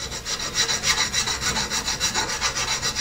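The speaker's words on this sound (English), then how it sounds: "Just a little bit of draw filing here" Draw filing the freshly machined metal edges of a lathe tool post part: steady, rhythmic rasping strokes, about two per second, close and clear with no talking.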